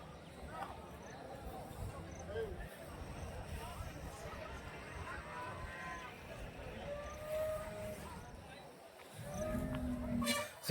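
Water buffalo low and call out now and then at a busy cattle market, with steady crowd chatter and bustle all around.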